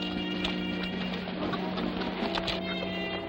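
Horses' hooves clop at a steady, moderate pace in a Western action scene, the hoofbeats sitting under sustained background music.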